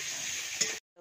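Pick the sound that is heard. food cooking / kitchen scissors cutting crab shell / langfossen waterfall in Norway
food cooking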